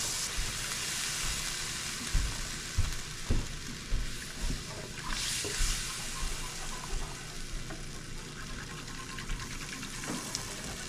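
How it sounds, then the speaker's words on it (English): Broth is poured into flour in a hot pan for pork chop gravy, with a loud bubbling sizzle and repeated stirring scrapes and knocks against the pan. "now we're just going to start adding the broth"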